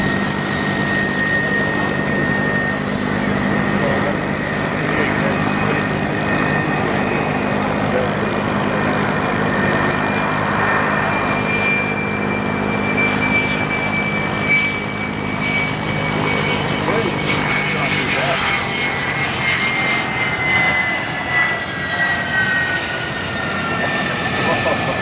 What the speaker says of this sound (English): After completing a performance, an F-16 Fighting Falcon came in for landing.